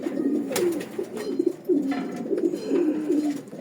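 Imported foreign pigeons, Michael Buzik and Dolly breeds, coo in a loft, a close, repeated throaty rolling coo in several bouts with light rustling between.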